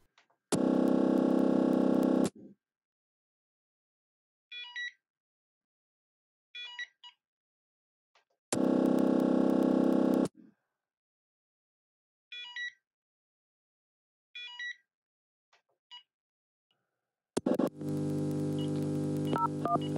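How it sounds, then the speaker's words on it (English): A radio receiver picks up a cordless phone base station transmission: three bursts of dense buzzing signal separated by silence, with short chirping tone blips between them and a final burst of noisy hiss. "You'll hear it page the handset first across 3 frequencies. The sounds of the buttons being pressed and then the phone being put down."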